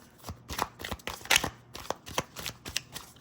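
Tarot cards being shuffled by hand in a quick, riffling run of crisp flicks and slaps, close and fairly quiet, with no talking.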